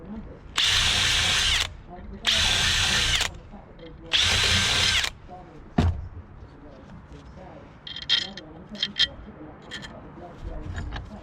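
Power drill boring through metal pins during a restoration, three sustained bursts of about a second each, loud and close, with quieter workshop handling clatter and brief tool noises afterward.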